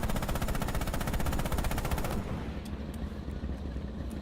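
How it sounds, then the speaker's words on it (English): Tank coaxial machine gun in the Red Orchestra 2 World War II video game firing a sustained, rapid automatic burst for about two seconds, loud and close, then stopping, with engine rumble and low ambient noise carrying on afterward. "Open fire with the coax MG on those targets."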